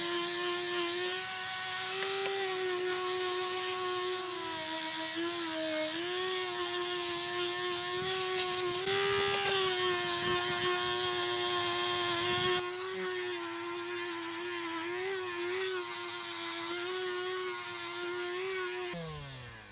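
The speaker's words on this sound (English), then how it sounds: "So I'm going to go through and sand all of this." Continuous high-pitched whine of a power sander working over a wooden pumpkin decoration, a steady close motor tone that wavers slightly in pitch for nearly twenty seconds before cutting off.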